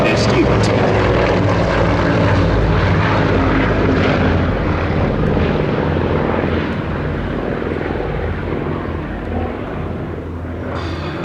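A piston-engine Provost trainer aircraft at a Shuttleworth air display, its broad engine and propeller drone loud and steady throughout, slowly easing as it passes, with a commentator talking over it.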